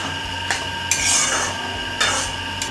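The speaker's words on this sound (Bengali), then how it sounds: "একটা টমেটো টুকরো করে রেখেছি এর মধ্যে দিয়ে দিলাম ভালো করে নাড়াচাড়া করব" Chopped tomato is stirred into a prawn curry in a pan, with a low sizzle under several distinct scrapes and clinks of a utensil against the metal pan.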